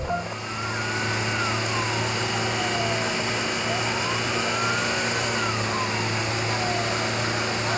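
A dump truck sound effect from a toy video gives a steady, droning engine hum with a slow rising and falling whine over it, loud and constant without speech.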